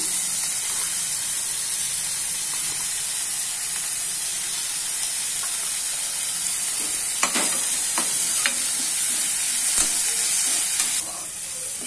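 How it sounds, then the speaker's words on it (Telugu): Tomatoes and salt frying with onions in a pan for egg masala curry, a steady loud sizzle throughout with a few clatters of stirring late on and no talking. "ఆనియన్స్ ఫ్రై అయ్యి కనుక ఇప్పుడు ఇందులో టమోటాస్ వేస్తున్నాను"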